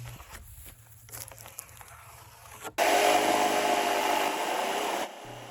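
Jigsaw cutting through a wooden board for a mountain bike ramp, a dense rasping buzz that starts abruptly after quieter handling noises and runs steadily for a couple of seconds before stopping.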